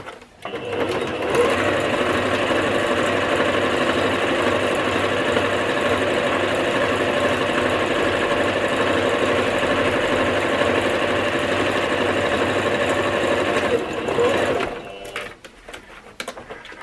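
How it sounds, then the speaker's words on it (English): Sewing machine running a continuous stitch along the top of a laptop bag pocket, a steady close whirring hum lasting about thirteen seconds before stopping. "1 centimeter stitch at the top of the pocket."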